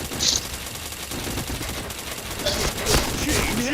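Rapid automatic gunfire rattles continuously in a video game, loud and dense bursts of shots filling the whole stretch with a few brief electronic effects.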